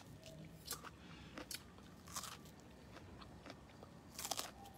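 Crunchy bites and chewing on fresh, unboiled raw corn on the cob, with several crisp crunches spread across the stretch and a louder burst near the end, close up over a steady low background hum.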